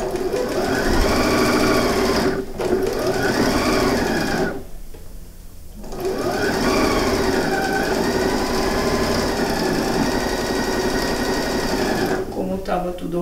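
A sewing machine stitching a patchwork coin purse made from fabric scraps runs in steady rapid bursts. It pauses briefly twice, then resumes at a close, even buzz, while someone talks quietly over it.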